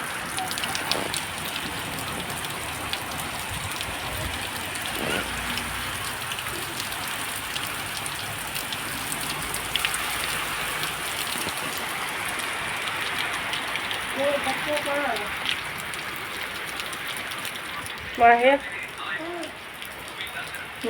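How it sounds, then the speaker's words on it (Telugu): Heavy rain pours outdoors during a storm with trees thrashing, a dense continuous hiss of drops on surfaces that holds steady throughout, with brief faint voices and a few knocks near the end. "ఇంకా వాన అయితే పడతాను చూడండి ఫుల్."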